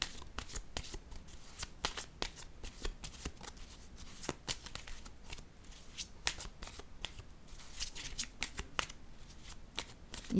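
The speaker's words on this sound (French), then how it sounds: "je vais piger une autre carte" Tarot cards shuffled by hand, a steady run of crisp riffling and flicking bursts close up, with no talking.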